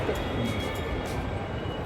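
Steady low rumble of a metro train in motion, continuous and fairly loud, with faint voices briefly in the background.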